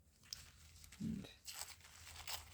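A piece of paper is torn by hand while making hinged journal pages, giving a few quiet ripping and crinkling bursts close by in an otherwise hushed space.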